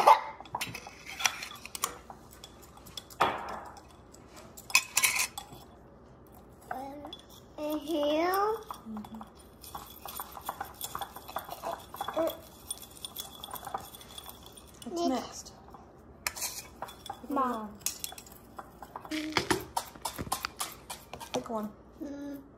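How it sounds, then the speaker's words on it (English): A spoon clinks and scrapes in a bowl as a child stirs oatmeal in a busy home kitchen, with light clatters scattered through the clip and a child's and a mother's voices talking over it. "Mommy, I'm gonna mix it."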